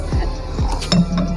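Coffee cups clink together in a toast among riders, a couple of quick, close, bright taps over low background noise.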